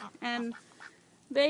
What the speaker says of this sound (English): How about the ducks? Now we have several different kinds of ducks here.